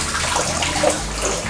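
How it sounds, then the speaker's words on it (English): An outdoor water fountain runs steadily, a dense continuous splash and rush of falling water close by, with no speech over the short stretch. "And they added this like a water fountain."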